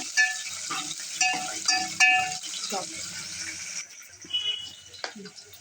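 Green chilies and onions sizzle and fry in oil after mustard and cumin seeds, with a spoon scraping and stirring in bursts over the hiss; the sizzle eases off partway through.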